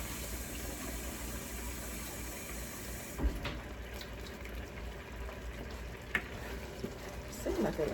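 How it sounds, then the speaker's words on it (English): Water poured into a pot of corn on a home stove while cooking, a steady near trickle with a few small clunks and no talking. "let's add a little bit more water to this corn"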